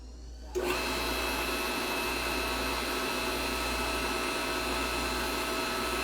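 Electric hydraulic press motor starts abruptly and runs at a steady, even hum with a constant pump whine, moving its ram slowly, alone with no talk.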